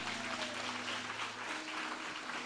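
Congregation applauding during a Portuguese-language church service, a steady wash of many hands clapping at moderate distance with a faint low tonal hum beneath and no voices.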